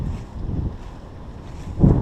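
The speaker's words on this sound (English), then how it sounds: "Getting kind of windy out" Outdoor wind rumbling and buffeting, with low gusty swells that surge louder near the end.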